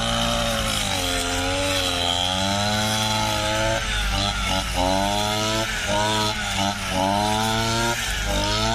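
A Mountain 230 brush cutter engine runs continuously at half throttle while cutting grass, a loud, close two-stroke drone whose pitch wavers and dips slightly as the load changes.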